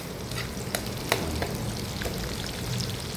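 Onion and mung beans sizzle and fry in a pan as they are sautéed, a dense close crackle with occasional sharp scrapes and stirring knocks and no voices.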